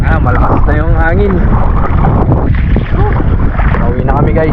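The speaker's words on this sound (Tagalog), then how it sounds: "Malakas na yung hangin." Strong wind roars across the open sea aboard a small boat on a spearfishing trip, a steady broadband rush from start to finish, with people talking loudly over it.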